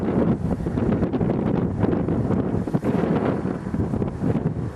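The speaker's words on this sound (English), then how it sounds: "Quite windy up here, eh?" Steady, blustery early-morning wind on a hilltop buffets the microphone with a low roar that rises and falls in gusts throughout, with no voices.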